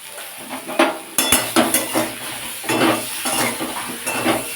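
A spoon stirs and scrapes through hilsa fish with turmeric powder in a metal pan, giving a run of clinks, knocks and soft scraping strokes, close and fairly loud with no talking.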